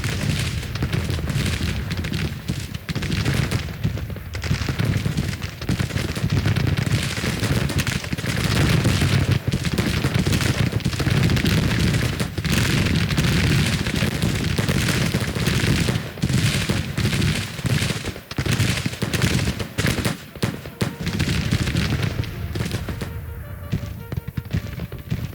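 Cannon and musket fire in a Civil War battle in the strategy game Grand Tactician, a dense continuous roar of overlapping booms and crackling volleys with no pause.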